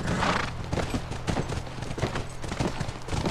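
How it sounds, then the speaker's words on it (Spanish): Rapid clip-clop of horse hooves in the video game The Last of Us over a dense, loud background with occasional whinnying, sounding like a galloping horse close by. "Es nuestro caballo, debe estar ahí."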